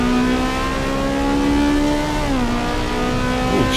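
A race car engine in the Assetto Corsa EVO driving game holds a steady high drone, then briefly drops in pitch and settles again, loud and continuous with no talk over it.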